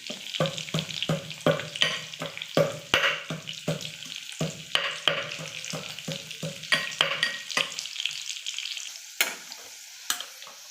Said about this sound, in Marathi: आणि ही मिरची आणि लसूण कुटलेला आहे तर ही पण टाकणार आहे मी.